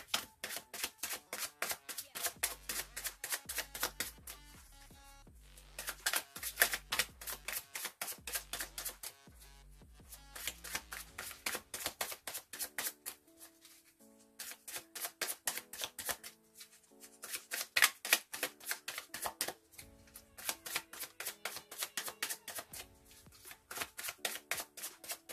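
Tarot cards are shuffled and laid out in quick, crisp riffling bursts, close and clear, broken by short pauses and soft slaps of cards set down.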